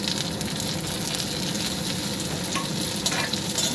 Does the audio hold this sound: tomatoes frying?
yes